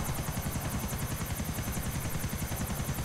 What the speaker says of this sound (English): my helicopter's still veering wildly